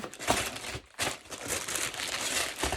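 Crinkly wrapping rustles and crunches as wrapped advent packages are jostled about in a basket, close and fairly quiet, with a brief pause partway through.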